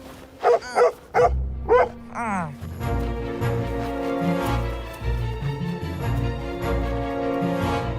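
A dog in an animated series gives several sharp, high barks and yips in quick succession, then a short whimper, before music swells and carries on to the end.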